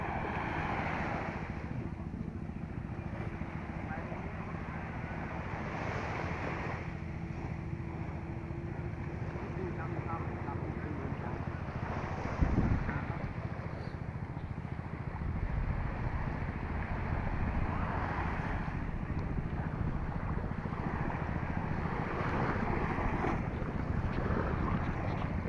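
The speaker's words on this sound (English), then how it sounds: "there are many boats going to the islands every day" Waves wash continuously at Ochheuteal Beach in Sihanoukville, Cambodia, a steady moderate roar with distant boat engines humming beneath and occasional wind buffeting.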